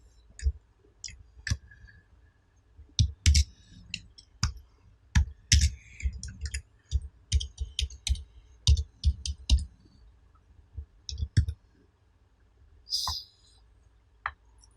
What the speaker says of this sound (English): Just click on this button